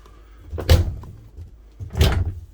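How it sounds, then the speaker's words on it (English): Queen-size bed in a 2023 Forest River Sunseeker 2860 motorhome sliding in against the wall, heard as two separate knocking slides about a second and a half apart, close and fairly loud with no talking. "this bed does slide in. It comes in right up against the wall here."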